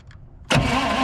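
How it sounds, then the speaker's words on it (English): A 1976 International wrecker truck engine cranks on its starter: a brief quiet lull, then an abrupt, loud, close churning that continues steadily to the end. "I'm going to bump the starter and see if we got spark."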